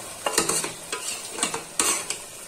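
Bamboo shoot and carrot khar cooking with bay leaves, with repeated stirring scrapes and spoon clinks in an irregular rhythm over a light sizzle, close up and without voices.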